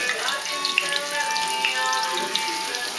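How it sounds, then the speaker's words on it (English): Pieces of dredged chicken fry in hot oil, a dense continuous crackle and hiss with scattered sharper pops, steady and fairly close throughout. "So Nikki is now frying the chickens, taking them."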